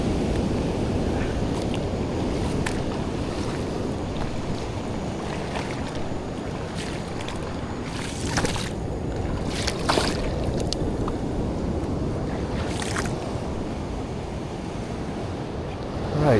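Ocean waves wash over the rocky shore at Almond Bay, Toco, a continuous broadband roar with occasional sharper splashes, heard up close with wind buffeting the microphone throughout.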